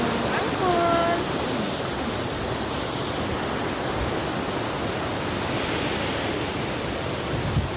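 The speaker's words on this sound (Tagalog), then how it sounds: "Yan ang falls." Bulusan waterfall in Sorsogon roars as a steady broadband rush of falling water, constant and loud throughout, with a faint voice briefly audible early on.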